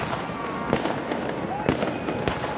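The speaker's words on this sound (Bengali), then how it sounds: "রোমের ঐতিহাসিক কলোসিয়াম ঘিরে নানা ধরনের বর্ণাঢ্য আতশবাজি শুরু হয়" Fireworks burst around the Colosseum in Rome during a New Year's Eve celebration, with several sharp booming cracks ringing out over a steady crowd roar and distant voices.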